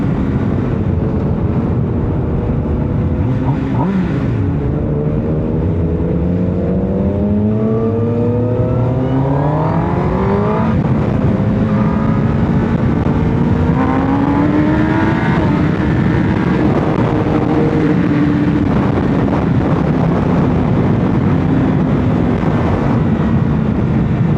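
Kawasaki ZX10R supersport motorcycle engine and exhaust during a test ride, a loud continuous roar with engine pitch sweeping up and down through gear changes and throttle.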